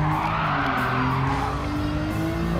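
Car tires screeching through a corner in Gran Turismo 7, a Nissan R32 GT-R with a steady engine drone under a long, wavering squeal that holds throughout.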